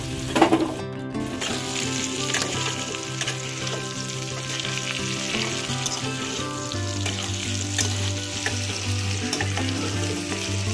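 Potato, pointed gourd, pumpkin and eggplant sizzle steadily in a pan with a close, continuous frying hiss and a brief clatter near the start, without speech.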